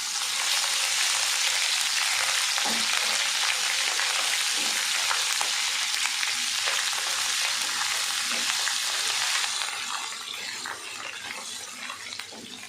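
Ginger garlic paste sizzling in a pan of hot oil with cumin, green chillies and cloves for a masoor pulao, a steady loud crackling hiss with occasional stirring scrapes that softens toward the end, no talking.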